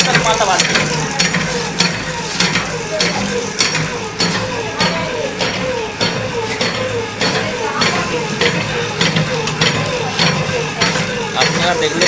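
A batasa sugar candy machine built by Bandel Karmakar runs with a rhythmic mechanical clatter and ratcheting knocks at a steady pace, loud and close, with voices talking over it.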